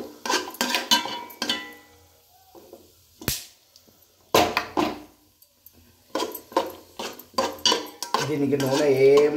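Payasam made with chickpeas and jaggery is stirred in a pan with a metal spoon, loud intermittent scraping and clanking strokes with brief pauses between, ending in a rougher continuous scrape.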